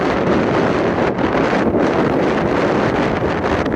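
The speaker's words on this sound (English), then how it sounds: "It's windy." Strong wind on a mountain ridge in Idaho's White Cloud Mountains roars steadily against the microphone, a constant loud buffeting rush with no voices.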